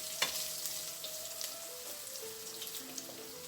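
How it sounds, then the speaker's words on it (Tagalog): Garlic sautéing in a pan, a faint steady sizzle with scattered soft clicks and light spatters of a utensil stirring, quiet and without talk. "sa the same pan, maglagay tayo ng garlic. Susutay lang natin ang ating garlic"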